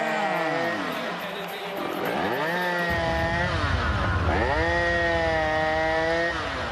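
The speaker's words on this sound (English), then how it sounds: "got that chainsaw working well tonight" A chainsaw revved in a college football stadium, its loud engine whining up and down in repeated surges over crowd noise, with a voice talking beneath it.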